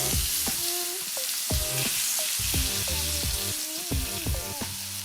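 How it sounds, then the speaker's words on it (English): Salmon fillets sear in a hot pan with a steady, loud sizzle and hiss, broken by frequent clanks and scrapes of a utensil against the pan. "Nice sear on those salmon."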